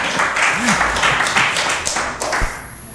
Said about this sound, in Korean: 올간 주자에게도 박수 한번 쳐주시죠.